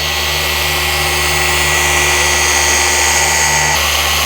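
A paint correction polisher runs steadily on a car's clear coat, a loud continuous motor whine with abrasive swish, holding a constant pitch under light pressure before a brief shift near the end; no talk.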